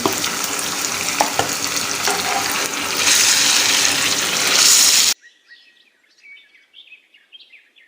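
Loud, close sizzling and crackling of garlic, ginger and chilies dropped into hot oil for tempering sarson ka saag, swelling for several seconds, then cutting off to quiet chirping birds.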